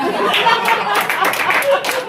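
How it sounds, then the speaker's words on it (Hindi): A comedy show audience bursts into dense applause and clapping mixed with scattered laughter and chatter, steady and loud throughout the short stretch. "तालियां"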